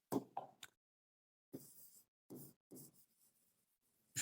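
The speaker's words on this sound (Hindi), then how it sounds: "अपन एक लाइन लिखेंगे यहाँ पे" Chalk or a marker scratches out a line of writing on a classroom board in a few brief strokes separated by short silences.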